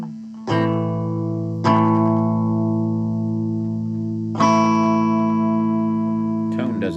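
Loud, sustained chords from a cheap budget electric guitar with volume turned all the way up ring out, struck three times with long decays and a final quick strum, close and full.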